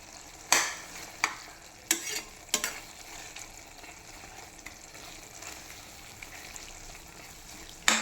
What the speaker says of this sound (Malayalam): ഇതിപ്പോൾ തിളച്ചു വെന്ത് കഴിഞ്ഞിരിക്കുകയാണ്.